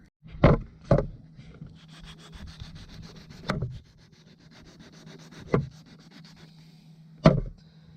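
Hand sanding of a leaky boat window with 120 grit sandpaper gives a steady scratchy rubbing close by, broken by several louder knocks or taps. No one speaks.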